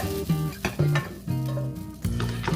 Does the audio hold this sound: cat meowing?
no